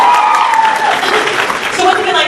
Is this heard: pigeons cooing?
no